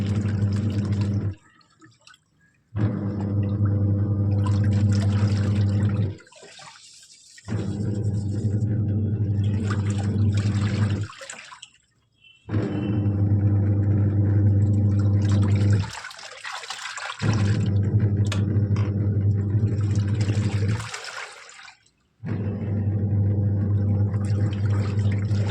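A home washing machine loaded with a small batch of clothes runs in long bursts of steady, low watery churning and rumble, broken by short near-silent pauses, close by with no speech.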